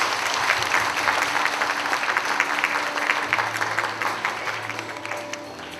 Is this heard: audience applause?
yes